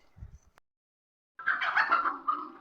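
Poultry in a bird yard break into a burst of clucking and squawking after a short quiet pause, fairly close, following a brief low thump at the start.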